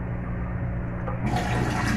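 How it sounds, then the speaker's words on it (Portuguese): A cup and a half of water is poured onto sautéed rice in a pot, a sudden splashing gush that begins partway through and continues steadily over low background noise. "E agora eu vou acrescentar uma xícara e meia de água."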